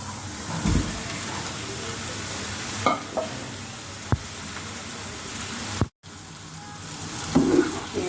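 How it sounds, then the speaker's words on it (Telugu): Chopped tomato pieces added to a pan of fried onions, frying with a steady broadband sizzle across the whole stretch, punctuated by a few brief clanks of stirring and one short cut-out near the end; no one speaks. "ఉల్లిపాయ ముక్కలు వేగిపోయాయి కదా ఇప్పుడు కోసి పెట్టుకున్న టమాటా ముక్కలు వేస్తున్నాను"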